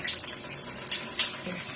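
Water pouring steadily into a container during a days-long household water shortage, a continuous rushing gush that swells briefly midway, close and alone with no talk.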